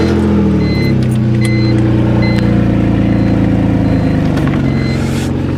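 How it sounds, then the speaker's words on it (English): A BMW E46 car engine runs close by, a steady low drone settling into idle after a brief shift near the start, with faint higher tones over it and no talk. "I'm gonna go ahead and start the car up and then let's get on the road."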